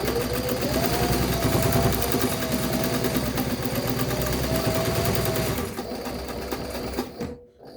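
An Austech SK-2BL20 long arm walking foot heavy duty sewing machine runs in a fast, steady mechanical rhythm, loud and close, then slows and stops near the end.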